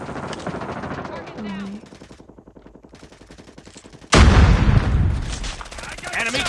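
Pistol gunfire in a shooter video game: a fast rattle of rapid shots, then a loud burst with booming impacts near the end, mixed with game sounds and voices.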